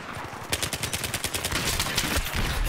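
Rapid bursts of suppressed PP2000 fire in a Battlefield video game, a fast regular train of sharp cracks about two seconds long, loud and close, with no talk over them.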